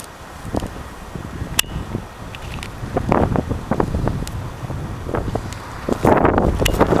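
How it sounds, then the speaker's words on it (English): Gusty wind buffets the microphone outdoors at a bee tree cutout, a continuous low rumble with stronger surges toward the end, along with faint rustling and scattered handling knocks. "if I can get above the wind noise here"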